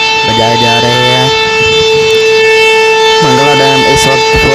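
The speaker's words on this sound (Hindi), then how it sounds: "दरवाजे खोलने से पहले सायरन बजाए जा रहे हैं।" A warning siren sounds before the gates of Mangla Dam open, a loud, steady sustained wail held throughout. Voices speak over it in two short bursts.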